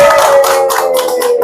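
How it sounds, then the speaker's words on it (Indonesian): Loud, close clapping for a traveling podcast, a brief continuous patter of hands over a steady tonal hum. "tepuk tangan untuk podcast keliling"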